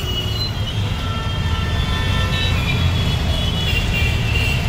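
A train on the Ambarnath line gives a steady, loud rumble and rattle of wheels on track, continuous and close, as if heard from on board.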